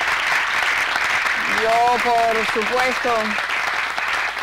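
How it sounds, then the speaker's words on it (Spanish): Audience applause at the closing event of a Zero Hunger program, a steady wash of clapping throughout, loud and close, with a voice speaking briefly over it. "Señores, un aplauso para todos estos hombres"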